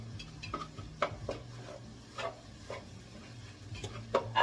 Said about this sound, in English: I like to use my spatula to chop up my meat because I like my meat kind of chunky.